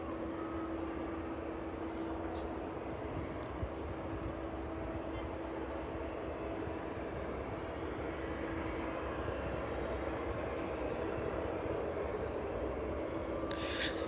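A Swift ATR turboprop on an extended evening approach into East Midlands Airport passes at about 6,000 feet, a steady, distant low drone holding evenly throughout with a faint hum, alone.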